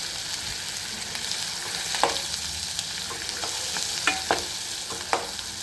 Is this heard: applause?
no